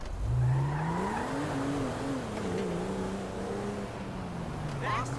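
Car driven in the video game GTA 5, engine note steadily rising and shifting as it accelerates, close and continuous under game dialogue, with a brief tire squeal near the end.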